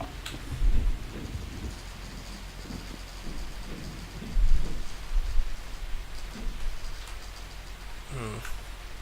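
Rain falls steadily in the Vault 007 video game map, a constant soft hiss broken by a few low rumbling swells and scattered thumps, with a brief higher sweep near the end.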